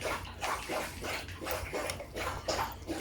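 A dog laps from a water bowl in a kitchen, with quick rhythmic slurping bursts about twice a second, close by and fairly quiet.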